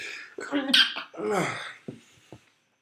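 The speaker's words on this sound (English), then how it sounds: "I gotta sneeze." A single loud, close sneeze with a sharp gasping build-up, followed by a few short breaths and sniffs.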